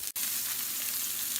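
Potatoes fry in butter in a pan with a steady, close sizzle, broken by a single brief dropout right at the start.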